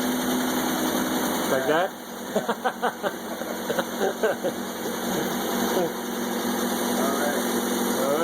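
A car engine idling at its first start-up after a head gasket change, a steady running drone throughout with a short series of sharp revs or knocks midway, while people talk briefly nearby.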